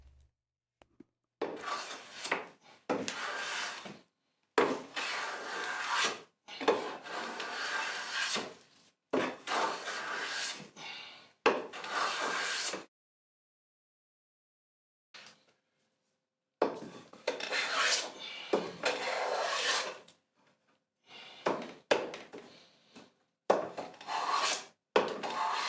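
Wood being sanded or filed smooth by hand to make a three-sided leather strop, close-up bursts of steady rasping strokes with short pauses between passes and a longer gap midway.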